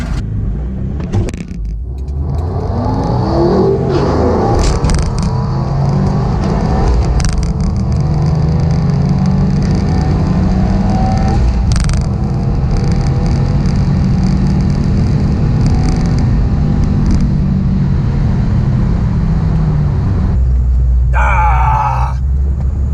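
A loud Subaru WRX STi engine revs hard, then roars steadily as the car launches on a quarter-mile pass and accelerates away, with a deep sustained drone throughout.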